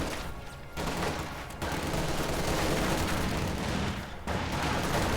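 MG42 machine guns fire in Company of Heroes 2, a dense, loud stream of rapid bursts with short pauses between them and scattered battlefield gunfire mixed in.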